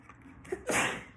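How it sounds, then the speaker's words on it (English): A single sharp sneeze bursts out after a brief inhale, loud and close with no talking around it. "Excuse me, I have to sneeze, y'all."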